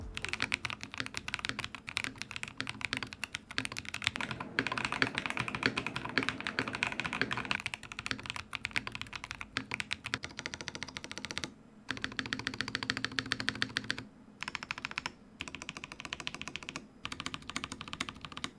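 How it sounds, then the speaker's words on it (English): Steady typing on a Razer keyboard with factory-lubed Razer Orange Gen 3 tactile switches in stock form, a dense stream of close, soft clacks and taps with short pauses and no talk. "For our switches, we have the Razer Orange Gen 3 tactile switches, factory loop with Kratox, so here's how it sounds in the stock configuration"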